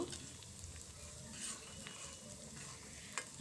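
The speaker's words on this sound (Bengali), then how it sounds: "পাঁচফোড়ন দিয়ে আমি বাদামি কালার করে পেঁয়াজ আর রসুনটাকে খুব ভালো করে ভেজে নেব" Onion and garlic fry in oil with Bengali five-spice while being stirred, giving a faint, steady sizzle broken by soft scraping of the spoon against the pan.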